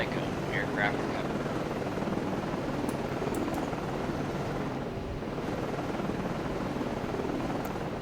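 In the naval game Cold Waters, an aircraft lands on an Oliver Hazard Perry frigate during a 1984 Atlantic campaign, giving off a steady, loud rotor and engine drone with a windy, rushing wash throughout.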